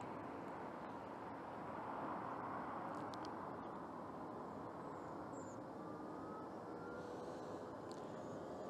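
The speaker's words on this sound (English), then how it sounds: "So that's the fan spinning up and whirring." An electric car's climate fans spin up during preconditioning, giving a steady, faint whirring that rises slightly, with light background noise from people moving around.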